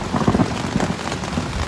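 Steady rain pattering on the ground and foliage along the Appalachian Trail, a dense continuous patter with no voices, recorded close and fairly loud.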